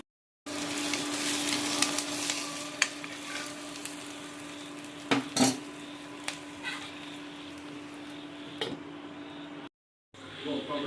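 Onion mixture with dumplings cooking in a pan on low heat, a soft continuous sizzle with a few brief clicks and knocks, a steady hum underneath and a short break near the end.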